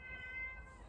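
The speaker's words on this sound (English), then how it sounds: "I'll just show you this wee kitten crying" A small kitten gives a single thin, drawn-out meow, faint and close, with no voices over it.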